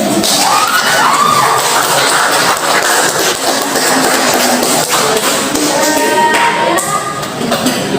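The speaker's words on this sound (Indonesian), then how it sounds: "Tepuk tangan dulu." Classroom of children clapping and cheering together, a dense steady burst of hand claps with excited young voices shouting over it, loud and close throughout.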